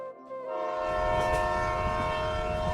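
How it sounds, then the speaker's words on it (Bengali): A local train with red and green lights sounds its whistle as it pulls in along the rail line at night: a loud, sustained, harmonic blast over a deep rumble of rolling wheels, close by. "রেল লাইনের ওপরের অন্ধকার ভেদ করে হুইসেল বাজিয়ে ঢুকে যায় লাল সবুজ আলো জ্বলা সেই লোকাল ট্রেনটি"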